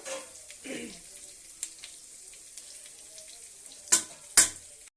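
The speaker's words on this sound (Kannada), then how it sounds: "ಚೆನ್ನಾಗಿ ಫ್ರೈ ಆಗಬೇಕು. ಇದು ಅಷ್ಟೊಂದು ಚೆನ್ನಾಗಿ ಮಸಿಬೇಕು." Food sizzles steadily in a hot pan for a tempering, with a couple of sharper spattering pops near the end and no talking.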